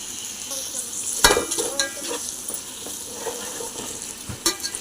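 Tomatoes sizzle in a pan for chicken biryani while being stirred, giving a steady frying hiss with a few sharp scrapes and clinks of the spoon against the pot.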